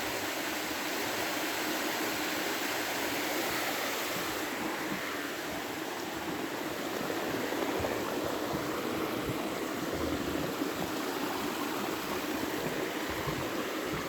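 A mountain stream on the Appalachian Trail pours down over rocks in a steady, full rushing wash that stays constant and close, with no voices.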